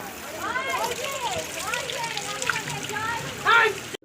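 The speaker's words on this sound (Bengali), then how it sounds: "এই যে আমরা ঝর্নার জলে মানে পাহাড়ের জলে আর কি পাইপ থেকে জল আসছে এখানেই আর কি হাত মুখ ধুলাম" Mountain spring water pours from a pipe at a hillside temple while hands and faces are washed beneath it. A steady, close splashing flow continues under people talking, with a brief louder splash near the end.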